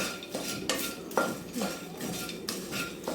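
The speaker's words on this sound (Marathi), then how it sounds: "आता आपल्याला चांगलं मिक्स करायचं आहे" Spiced makhana is tossed with salt in a bowl, producing rhythmic rattling and scraping strokes with occasional clinks of a spoon against the bowl, close and moderately loud, with no talking.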